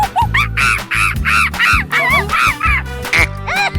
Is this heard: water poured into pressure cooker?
no